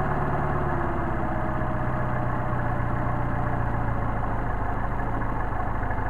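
A Mercedes 190SL engine fed by Solex carburetors runs steadily at idle after sitting a few days, a loud, close, continuous low rumble with an even pulse throughout.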